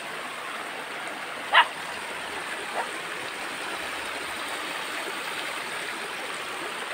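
Flowing stream water near a rural Filipino home, a steady broadband rush running unbroken throughout, moderately loud and close, with one brief sharp knock early on.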